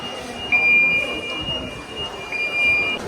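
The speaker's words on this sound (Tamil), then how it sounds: "இங்கே பாருங்கள், இந்த ட்ரெயின் மூவ் ஆகுது பாருங்கள்." The Penang Hill train moves along with a continuous rumbling hum and a steady high-pitched whine, heard from close by.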